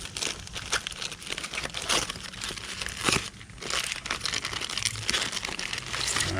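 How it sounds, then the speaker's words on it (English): Packing wrap around a detachable motorcycle backrest for a 2024 Harley-Davidson Road Glide is torn and crumpled, making a continuous close crinkling and rustling with brief tearing bursts and no talk. "I ain't mean to rip it like that."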